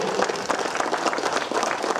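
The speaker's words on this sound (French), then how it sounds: "On l'applaudit bien fort" Dense, steady applause fills a prize ceremony for a women's cycling time trial, a continuous wash of many hands clapping close and loud throughout.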